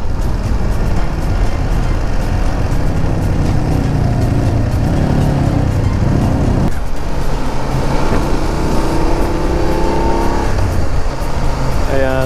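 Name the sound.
motorcycle engine riding on road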